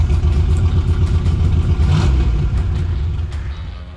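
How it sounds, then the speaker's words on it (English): A drag racing car's engine revs hard and steady during a burnout, a loud close rumble with throttle held high, easing off slightly near the end. "I like to start the burnout in first gear for a few seconds, then drop into second"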